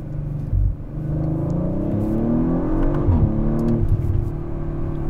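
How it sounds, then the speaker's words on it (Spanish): A 2021 Audi RS5 twin-turbo accelerates hard, its engine note climbing steadily, dropping briefly at a quick gear change around the three-second mark, then pulling again, loud and close from inside the car. "Es tocar el acelerador y el carro sale disparado."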